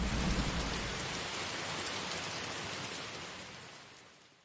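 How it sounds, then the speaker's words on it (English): Steady rain pours down outdoors as a dense, even hiss that fades slowly toward the end. "This rain seems like it will never stop."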